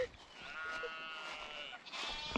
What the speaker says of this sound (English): I don't know if you can hear the sheep.